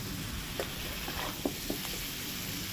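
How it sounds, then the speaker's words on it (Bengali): Chicken fries in a pan with spice paste for a Bengali-style chicken curry, giving a constant close sizzle broken by a few soft scraping knocks as it is stirred. "দেখো চিকেনটা দিয়ে একদম কষিয়ে নিচ্ছি"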